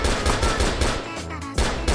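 Rapid, loud bursts of automatic gunfire from an AN94 rifle in the CrossFire Mobile shooter game, with quick evenly spaced shots, a brief pause, and then the firing resumes.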